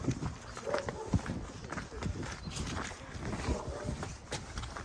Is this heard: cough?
no